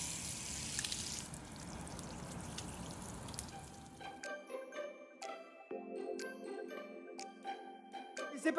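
Tap water pours steadily into a home aquarium for about four seconds, then stops and gives way to scattered drips and tinkling trickles landing in the water, close and fairly quiet.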